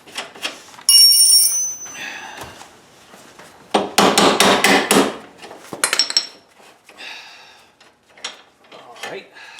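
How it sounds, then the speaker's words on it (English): Hammer blows tapping out the rear axle of an Arctic Cat 4WD ATV, a burst of rapid metallic strikes in the middle with a few scattered taps around it, close and loud, with someone talking at times. "have to tap that out, I guess, with a hammer"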